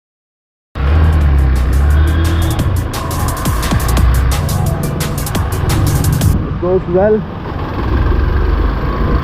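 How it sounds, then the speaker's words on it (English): A Hero XPulse 200 motorcycle engine drones steadily while it is being ridden, loud and close with wind rush over it. A rider speaks briefly, and a short horn-like beep sounds near the end. "The engine is pretty much refined, but I can feel some amount of vibration after 6000 RPM."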